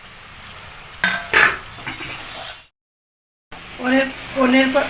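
Capsicum with turmeric and spices being stir-fried in a pan for paneer masala, a sizzle with spatula clatter, interrupted by a short silent gap, and a voice speaking over it.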